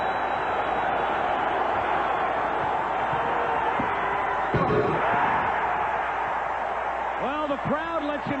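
A packed arena crowd roars after Michael Jordan's dunk at the 1988 NBA Dunk Contest, a dense, loud sustained wall of cheering with an announcer's voice breaking through near the end.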